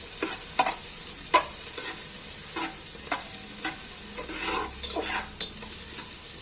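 Garlic and ginger frying in a pan, a constant bright sizzle broken by rhythmic scraping stirs of a utensil against the pan, with no voices.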